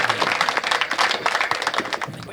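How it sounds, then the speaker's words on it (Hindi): An audience at a Hindi kavi sammelan poetry gathering gives poet Sumit Orcha a round of applause, steady dense clapping filling the hall at moderate loudness. "सुमित ओरछा से एक बार आपकी तालियां मिले"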